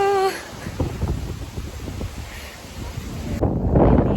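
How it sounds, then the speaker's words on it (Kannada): Strong, cold wind buffets the microphone on a foggy hillside at Horanadu, with rough, gusty rumbling throughout, growing louder toward the end. "ಎಂತ ಗಾಳಿ ಮಾರಯ್ಯಪ್ಪ"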